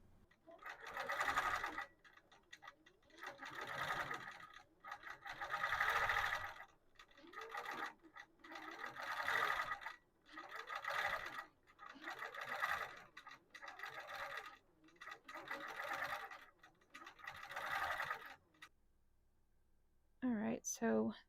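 A longarm quilting machine stitches a Dahlia wholecloth panel, its needle chattering in repeated bursts with brief pauses, under faint talk.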